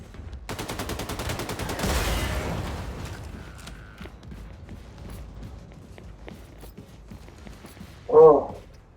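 Wolfenstein: The New Colossus gameplay with a rapid burst of automatic gunfire at the start, followed by quieter mechanical clicks and creaks and one short sharp sound near the end.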